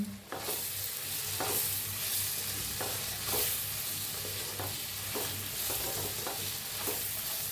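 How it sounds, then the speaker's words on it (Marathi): Masala potatoes with fresh coriander are stirred in a hot pan, a steady sizzle broken by regular rhythmic scraping strokes about once a second, close-up and fairly loud with no voices. "आता कोथिंबीर घालूया। हलवून देऊया।"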